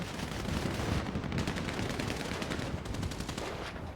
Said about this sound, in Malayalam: അവനടിച്ച കുറെ വെടിയ ചാർലിക്കിട്ടാ കൊണ്ട്.